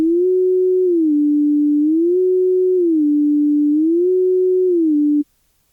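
A loud, pure sine-wave synth note from Surge XT sustains for about five seconds while its pitch slowly wobbles up and down in a steady cycle, then cuts off abruptly.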